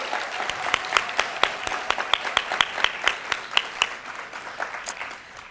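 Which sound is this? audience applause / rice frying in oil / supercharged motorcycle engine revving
audience applause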